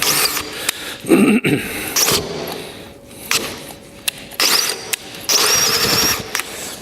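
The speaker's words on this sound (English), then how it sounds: "that's what happens when you got a dull drill bit" A Fein ASCM 18 QSW cordless drill with a dull bit whirs in uneven bursts, straining and bogging down as it bites, with short pauses and clattering handling noise between runs.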